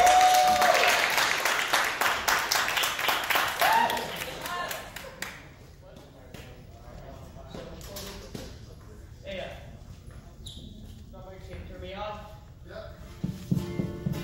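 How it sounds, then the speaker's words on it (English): Audience applause at a live variety show, loud clapping for the previous act that fades after a few seconds into scattered claps, with a voice speaking over it. "I just want to give another round of applause to the previous act"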